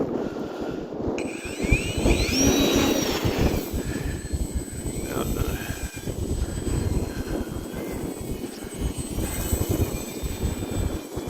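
A Hobbyzone Carbon Cub S 2 1.3m RC plane's electric motor throttles up for takeoff outdoors in a strong wind. A thin whine climbs in pitch and then holds steady over constant gusty wind rumble.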